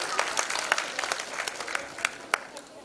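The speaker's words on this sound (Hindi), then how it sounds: "एक बार जोरदार तालियां सर के लिए" Moderate applause from a modest audience welcomes a singer before a song performance, individual claps distinctly audible as sharp, uneven hits through a steady patter.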